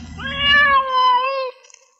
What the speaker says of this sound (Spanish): Escucharon maullar a un gato.